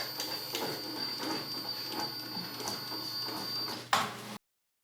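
A Ricoma MT1501 embroidery machine stitches a design onto a towel at 680 speed with a rapid, steady mechanical chatter and a thin high whine. It runs close and alone, then a brief clunk sounds near the end before it cuts out.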